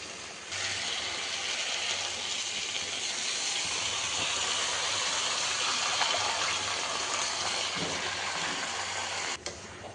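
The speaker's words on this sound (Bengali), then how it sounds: "এখন আমি 5 ফোড়ন, তেজপাতা, শুকনো লঙ্কা ফোড়ন দেবো।" Panch phoron, bay leaf and dried chilli hit hot oil, giving a broad, steady hissing sizzle that rises abruptly and holds evenly for several seconds before cutting off near the end.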